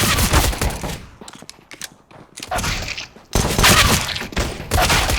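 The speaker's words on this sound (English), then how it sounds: "Blocker finds the opening frag onto Duplicate" Rapid automatic rifle fire and bursts of gunshots from a Counter-Strike match on Dust 2, loud dense volleys broken by a brief quieter gap, with no voices.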